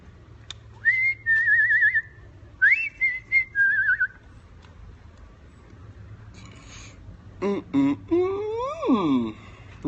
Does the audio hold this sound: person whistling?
yes